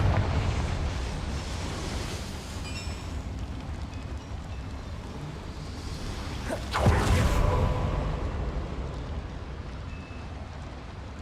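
A Confringo spell in the video game Hogwarts Legacy bursts in a single loud explosive whoosh partway through, rising out of a steady bed of rushing, rumbling ambient noise and then fading back into it.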